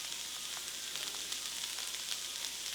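Onions browning in a pan for a Seattle Dog topping, a soft continuous sizzle with light crackles, fairly quiet and close, no voices.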